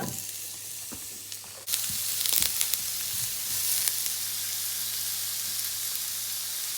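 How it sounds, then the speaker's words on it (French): Frozen vegan food fries in a pan with a little oil, a dense, steady sizzle that suddenly grows louder and brighter partway through, punctuated by soft stirring clicks. "il faut les mettre 12 minutes à la poêle sur un petit peu d'huile"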